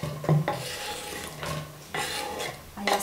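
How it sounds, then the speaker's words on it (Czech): Chopped onion is stirred and scraped around in a cooking pot, with repeated rough rasping strokes and a few faint clinks, close and moderately loud. "Cibulku si dáme do hrnce."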